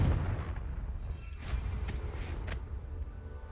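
Confringo blasting curse in the Hogwarts Legacy video game, a deep booming explosion with a rumbling low tail and a couple of sharp crackling bursts, loud and close.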